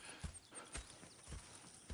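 Horse hooves clip-clop in Red Dead Redemption 2, several distinct heavy thuds spaced irregularly over a soft game ambience, close and moderately loud with no talk.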